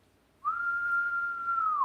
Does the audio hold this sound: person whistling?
yes